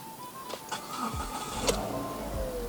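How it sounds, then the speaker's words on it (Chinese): A 2010 Proton Persona 1.6L manual car's engine starts with a brief cranking whir and then settles into a steady low idle, quiet and heard from inside the cabin. "现在我们来打着引擎看看啊。"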